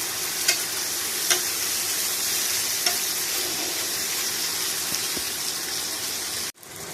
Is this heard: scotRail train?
no